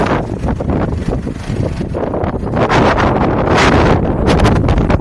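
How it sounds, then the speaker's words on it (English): Strong outdoor wind buffets the microphone in loud, continuous rumbling gusts that swell and fade with no clear speech. "Better forgive me for the wind."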